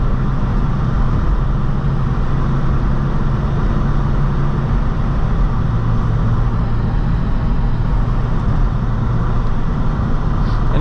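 A BMW E46 M3 with its 3.2-liter six-cylinder engine and SMG gearbox drones steadily while driving, heard from inside the cabin as a loud, continuous low engine hum mixed with road noise and no clear rev changes.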